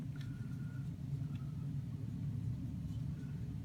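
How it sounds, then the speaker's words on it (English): Airbus A320 engines roar steadily on thrust reverse after landing in a flight simulator game, a constant low rumble throughout with faint higher whine tones. "that's the full extended spoilers, the engine thrust reversing"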